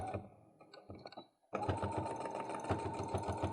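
A sewing machine stitches a seam on a fabric makeup bag, starting with a few slow halting stitches, then after a brief pause running fast and steady with a rapid mechanical whir, close by.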